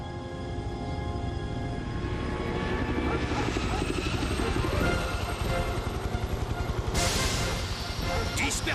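A helicopter in an animated cartoon flies past with a steady, loud rotor and engine roar that fills the whole clip. Voices speak over it, and a brighter burst of noise rises near the end.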